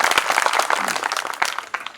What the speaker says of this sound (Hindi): सबसे पहले तो एक जोरदार तालियां